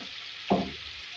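Crushed coriander hitting a hot pan while roasting for bhindi pyaz: one short burst of sizzle that fades into a soft, low frying hiss, close and fairly quiet.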